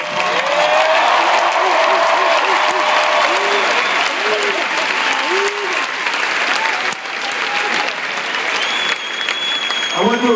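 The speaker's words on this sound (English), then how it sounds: "Give yourself a round of applause." Audience applause at a THON 2012 dance marathon, loud sustained clapping from a large crowd with a few cheers and whistles, holding steady for about ten seconds.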